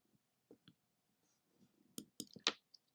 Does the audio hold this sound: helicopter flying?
no